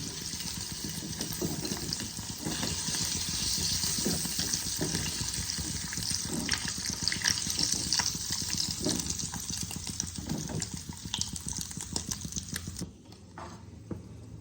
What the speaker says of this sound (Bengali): আমি বাদ বাকি পনিরগুলোকেও ভেজে নিচ্ছি।